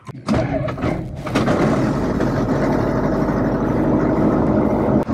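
A homemade airplane's propeller engine catches and settles into a steady, loud idle, a dense throbbing drone after a few sputtering starts.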